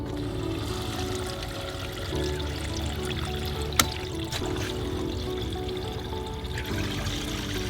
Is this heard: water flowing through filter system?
yes